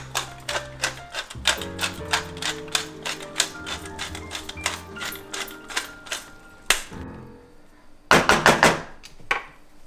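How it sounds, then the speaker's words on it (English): A pepper grinder cracks fresh pepper for a vegan cabbage and tofu stir fry, producing a long run of rapid, crisp ratcheting clicks, then a short pause and a second dense burst of clicking. "Fresh ground pepper. Cracked pepper."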